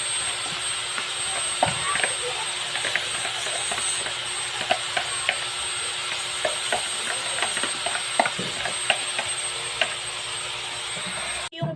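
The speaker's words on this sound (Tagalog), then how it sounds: "Yung karne, ihinalo ko na din po yung sibuyas at saka bawang." Meat, onion and garlic sizzling and being stirred in a frying pan, a steady loud fry with scattered scraping clicks of the utensil throughout.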